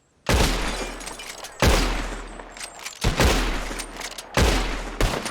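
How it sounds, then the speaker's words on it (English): Gunshots shattering bottles in the video game Red Dead Redemption 2, four or five loud sharp blasts in an irregular volley, each followed by a crashing, ringing tail. "Who can shoot the most bottles? Just draw your gun and aim when you're ready, all right? Shoot!"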